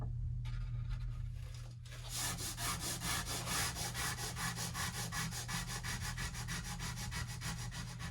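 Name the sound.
hand sanding a table finish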